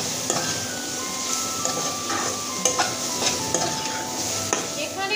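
Spices, chilli powder and coriander powder, stirred in a hot frying pan for fried rice, with a steady sizzle under scraping spoon strokes and a few light metallic clinks, close and alone without talk.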